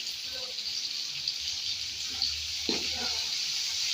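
Onions sizzle in hot oil in a pan, a steady bright frying hiss that runs throughout with soft stirring scrapes and a brief clatter partway through.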